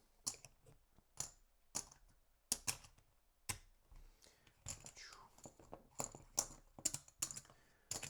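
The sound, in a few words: shuffling piles of board game cards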